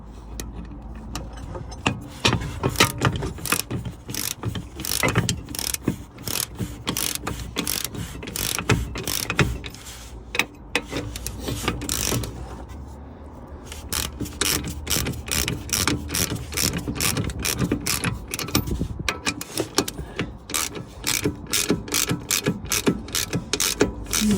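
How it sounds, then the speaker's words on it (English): An ordinary ratchet tightens the lower ball joint bolts on a 2.0L D4D Toyota Avensis T270, giving rapid, loud clicking runs near the mic with a short pause midway and no talk. "I'm going to use just a ordinary ratchet just to tighten these up for me now."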